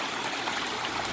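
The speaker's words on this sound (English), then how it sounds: "you've only got the water pressure coming through the jets" Hot tub water jets run in a steady, even rush of churning water, continuous and fairly close, with no voices over it.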